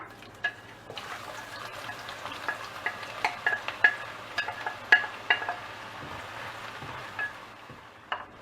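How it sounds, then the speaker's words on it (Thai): About 150 g of sliced shallots fry in hot oil in a pan for Thai chicken biryani, a steady soft sizzle broken by repeated clinks and scrapes of stirring, close and moderately loud with no talking. "พอน้ำมันร้อนก็ใส่หอมแดงลงไปเลยค่ะ"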